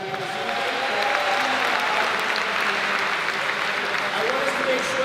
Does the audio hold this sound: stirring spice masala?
no